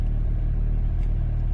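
A 2009 Kia Sorento R with a CRDI diesel engine runs steadily, giving a close, loud, low rumbling drone with an even pulsing throb and no voices.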